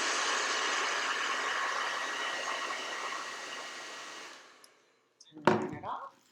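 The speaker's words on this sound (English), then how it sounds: "turn on your hair dryer" A hair dryer blows steadily for about four seconds while heating nails, then switches off. A few soft handling knocks and rustles follow close by.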